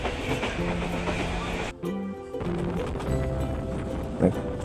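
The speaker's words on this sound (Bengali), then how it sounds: "তো ট্রেন চলতেছে, ট্রেনের মতন আমিও বসে আছি আর ভিডিও করছি আপনাদের জন্য।" A train on the line from Tejgaon toward the airport in Dhaka rumbles along its rails from inside a carriage, a continuous clattering roar that dips briefly before resuming.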